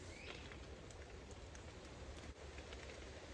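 Rain patters down on a wet woodland camp, a dense close hiss with scattered sharper drops striking nearby surfaces, continuous and unbroken by voices.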